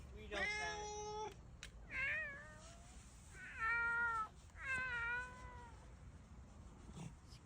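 Sphynx hairless cat meowing to be let outside, several loud, drawn-out, insistent meows in a row, close by, with faint room noise between them.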